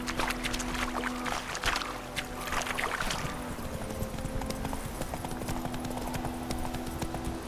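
Horse hooves in The Witcher 3 video game clip-clop at a steady riding rhythm, close and clear, with an ambient background hum underneath and no talking.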